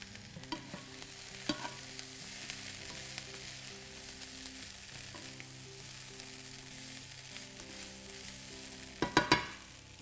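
Onions, garlic and sage fry in a pan for sage and cauliflower pasta, a steady close sizzle under scattered stirring clicks, ending in a louder burst of scraping near the end.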